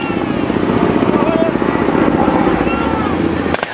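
A helicopter drones in news footage of shelling in Rojava, Kurdistan. The rotor throb is a steady, fairly loud hum that runs through the whole stretch, with a voice talking over it.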